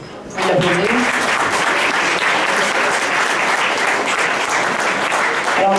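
Audience at the Monument-National applauding Gilles Duceppe, a loud, dense burst of clapping that starts abruptly and holds steady throughout, with a voice briefly audible at the start.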